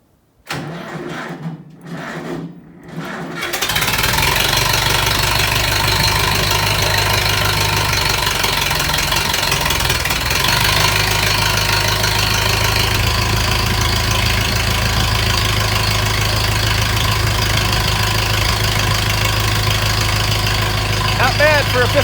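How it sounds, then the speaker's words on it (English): A 51-year-old Massey Ferguson 165 tractor engine catches after a few cranking bursts in freezing weather, then settles into a loud, steady diesel idle with a rough knocking rumble that runs on without a break. "Not bad for a 51-year-old tractor."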